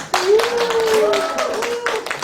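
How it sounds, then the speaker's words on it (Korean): A short burst of audience clapping at a community screening event, several sharp claps close by while a voice speaks over them. "박수 한번."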